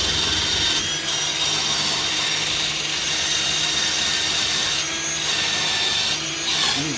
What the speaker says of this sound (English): I'm letting the drill do all the work.